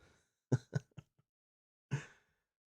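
A few quiet, rough throat-clearing coughs in a quick cluster, a pause, then one more harsh throat clear, close and alone.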